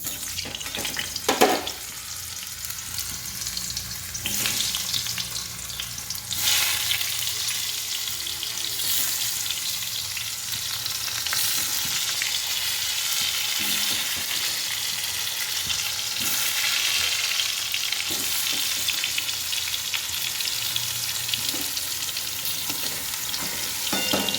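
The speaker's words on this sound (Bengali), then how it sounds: "তেলটা গরম হয়ে গেলে আমি একে একে আলুগুলি ছেড়ে দেব তেল গরম হয়ে গেছে" Potatoes fry in hot oil with a loud, steady sizzle that crackles continuously for a long stretch, nearby and without talk, while a few clatters sound early on.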